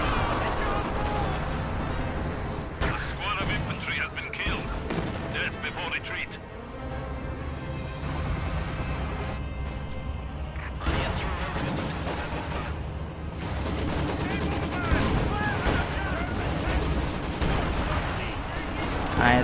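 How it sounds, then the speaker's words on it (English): ISU heavy tank guns and other battlefield gunfire in the Company of Heroes 2 video game, repeated bursts of shots and booms under continuous commentary from a caster. "ISU firing on everything that's just blobbing towards the center victory point at this point."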